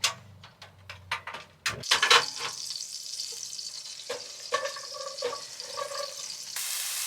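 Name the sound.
vegetables cooking in a pot on a butane stove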